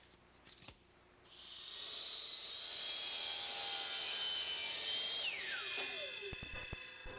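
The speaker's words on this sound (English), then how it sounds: "my power miter box does a real good job cutting the 45-degree angle cuts" A power miter saw spins up and cuts a 45-degree angle through a wooden picture-frame piece, a steady loud whine lasting several seconds before winding down, followed by a few light clatters.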